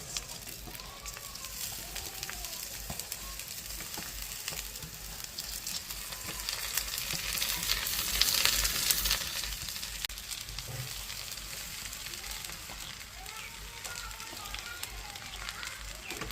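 Soaked rice and lentils sizzle steadily in a pan after onions, frying for khichuri. The frying is quiet and continuous, with faint stirring scrapes and no pauses.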